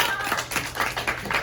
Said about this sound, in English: Kind of clap for Mr. Yang